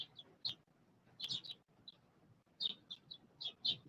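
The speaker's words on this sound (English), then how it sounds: "the bird's loud coming through the mic" Several birds chirping close to the microphone in short bursts, with sharp tweets clustered in two busy flurries separated by a quieter gap, over a low background hum.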